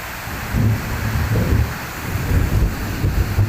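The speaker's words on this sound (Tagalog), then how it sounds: "sa sobrang lakas kasi ng ulan" A dense, heavy downpour roars steadily, with deep rumbling gusts swelling underneath, loud and close with no voices.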